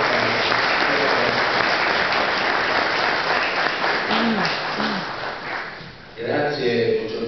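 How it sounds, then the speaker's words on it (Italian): Warm, sustained applause from an audience in Scauri greets a speaker at a talk on freedom and legality, a dense crowd clapping that fades briefly before a voice starts speaking over the last of it. "accogliamo con un caloroso applauso"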